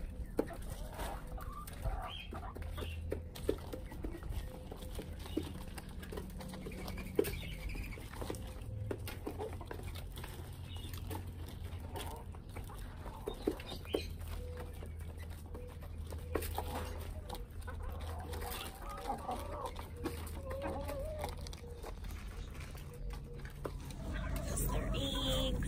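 Hens clucking and pattering about inside a backyard chicken coop while feeding, soft scattered clucks and scratching over a low rumbling background, continuing steadily throughout.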